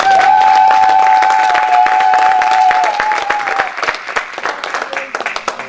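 A church congregation claps and cheers loudly and steadily for the Lord as an apostle comes forward, with a sustained crowd roar and a held tonal voice early on, the applause thinning into scattered claps toward the end.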